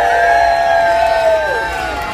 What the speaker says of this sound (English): we should give Thomas a big cheer